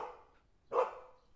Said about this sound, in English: Gotta see what the dog's worked up about.